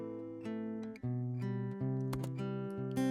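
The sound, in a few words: acoustic guitar finger picking without any processing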